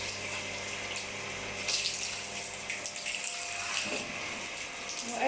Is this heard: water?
yes